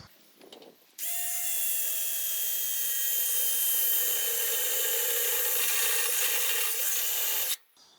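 Step drill bit (a cheap one) boring holes in thin metal sheet while fitting an International truck radiator, a steady high-pitched grinding whine running continuously for about six and a half seconds, close and loud, with no talking.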